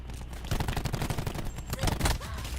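Rapid gunfire from a video game shooter crackles in dense bursts, sharp shots piling up over about two and a half seconds with a brief lull in the middle.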